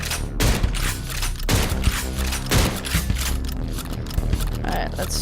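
Rapid gunfire bursts in a procedurally generated zombie shooter video game, dense overlapping shots crackling loudly and almost without pause, layered over other game sounds.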